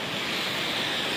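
Rough surf pounds Galesong beach in Takalar, a broad roaring wash of water with wind noise buffeting the microphone, steady and loud with no voices.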